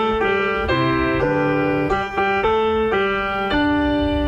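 Happy Birthday melody played with reharmonized, altered chords on a sustained keyboard-like instrument, a steady sequence of held chord changes, clear and close with no talking.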